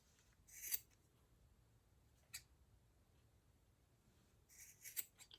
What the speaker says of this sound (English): And again, you're going to cut the loops.